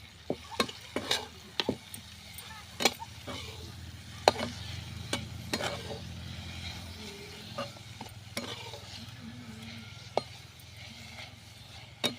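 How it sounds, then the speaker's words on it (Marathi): Fresh young fenugreek (methi) leaf tips stirred and sautéed in a pan for a Maharashtrian pitla over a wood-fired stove, with a soft steady sizzle beneath repeated scraping and clinking stirs. "आपण अशीच मेथी यामध्ये टाकणार आहोत परतून घेऊया"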